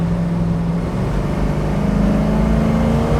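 A 1971 Dodge Challenger with a four-speed accelerates hard, its engine giving a loud, deep, steady roar that builds in pitch and stays close and strong throughout.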